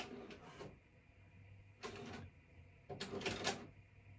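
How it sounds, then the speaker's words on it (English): A Silhouette cutting machine works on printed sheets, giving three separate bursts of whirring carriage movement with quiet gaps in between, heard fairly close. "I need to go ahead and cut them on my silhouette"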